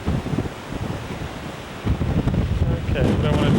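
Wind buffets the microphone with low rumbling gusts at a beach, growing stronger toward the end, over a broad hiss that may include surf.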